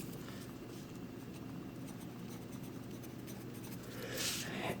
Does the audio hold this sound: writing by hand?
yes